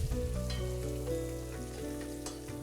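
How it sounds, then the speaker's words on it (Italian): Guanciale from Cinta Senese pork sizzles and browns in a pan, a close, steady frying crackle with continuous popping and no talk. "Questo è guanciale di cinta senese, bello rosolato, che lasci tutto il suo gusto."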